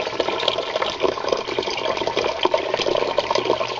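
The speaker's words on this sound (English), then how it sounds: "even though the pump is pumping in, it's still draining out faster than it's pumping in." Water drains out of an indoor DIY aquaponics tank through a J-tube while a pump feeds water back in, a close, steady gurgling rush with bubbling churn continuing throughout.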